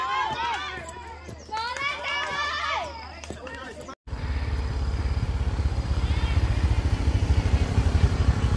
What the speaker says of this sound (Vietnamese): chúng tôi đang di chuyển bằng xe máy lên trên dốc tháp truyền hình